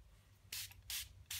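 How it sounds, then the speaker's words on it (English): Cold wax spray hisses from a can in three short, close bursts, with brief quiet gaps between them. "we have the cold wax spray, exactly the same effect"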